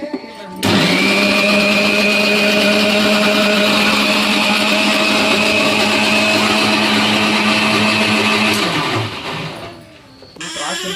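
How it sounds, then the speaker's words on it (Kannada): Raw masala paste being ground in an electric grinder: a loud, steady whirring drone that starts abruptly, runs evenly for about eight seconds, then winds down and stops. "ಹಸಿ ಮಸಾಲ ರುಬ್ಬಕ್ತಿ"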